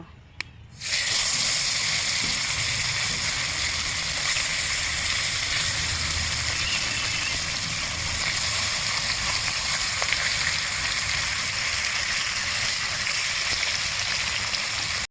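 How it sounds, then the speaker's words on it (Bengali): Marinated fish frying in hot oil in a wok, a sudden loud burst of sizzling that starts about a second in and then holds as a strong, even crackling hiss with no talk. "এখন আমি মাছটা কড়ার মধ্যে দেব।"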